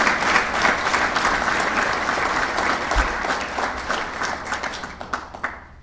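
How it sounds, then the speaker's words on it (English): A banquet audience at the Georgia PGA awards bursts into sustained applause, dense clapping from a large room that thins into scattered claps at the end. "We have one more round of applause for our section players of the years and our chapter award winners."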